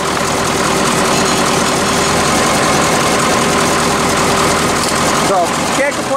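The 8.2 Detroit Diesel turbo in a 1986 Ford F700 toterhome idles after a cold start with a loud, even, close-up rumble that holds steady throughout.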